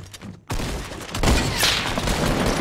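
Gunfire in Fortnite during a squads match, a loud sustained burst of rapid shots and blasts that starts abruptly after a brief quiet moment and keeps going to the end.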